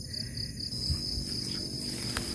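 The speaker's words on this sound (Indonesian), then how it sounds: "Ada suara jangkrik Bapak Ibu." Crickets chirp steadily in a village field, a high, continuous trill running throughout the short clip, with a faint low background rumble beneath.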